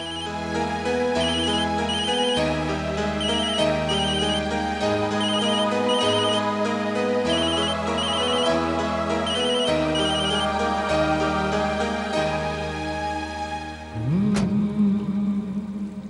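A mobile phone ringtone for an incoming call plays loud and continuous, a repeating electronic melody in a Tamil TV serial scene, with a sharp hit near the end and no talking.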